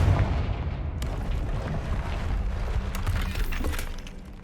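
A Confringo blasting curse from Hogwarts Legacy bursts with a loud, crackling, shattering blast that rumbles steadily through the few seconds, with sharp debris-like cracks scattered over it and no one speaking.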